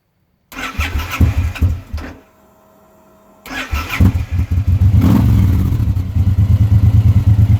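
A Suzuki M109 motorcycle engine cranks over, catches with a loud roar, then falls silent briefly before cranking again and settling into a deep, rapid, steady idle rumble up close.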